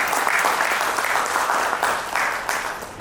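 Audience at a VTI Group dealer meet applauds, a dense, loud wash of clapping that holds steady for a few seconds with slight swells and no voices over it.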